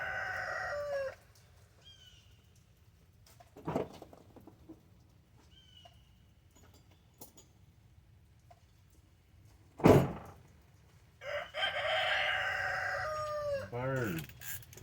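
A rooster crows twice on a farm near a barn on a rainy day, each call a loud drawn-out burst with quieter scattered sounds and a faint voice between.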